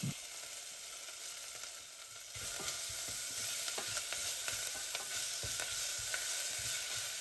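Ginger-garlic paste, pandan and curry leaves fry in a pan for a Sri Lankan-style cowpea curry, a soft, steady sizzle that swells louder partway through, with faint stirring scrapes and no voices.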